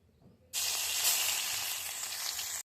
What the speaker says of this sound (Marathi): फोडणी टाकायची.